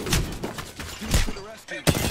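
Enemy gunfire in Apex Legends, a string of rapid shots and impacts mixed with game effects, fairly close, with a voice speaking over part of it.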